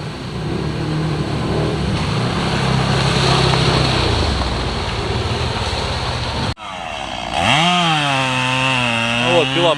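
A chainsaw cuts through fallen trees blocking a peat-bog forest trail. It drones loudly and close, then revs up and down in sharp, wavering surges.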